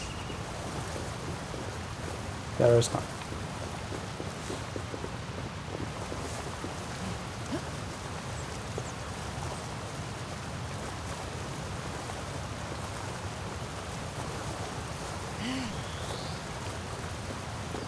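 A steady, broad rush of falling water from a waterfall in Assassin's Creed Valhalla, close and constant throughout, with a brief spoken remark early on.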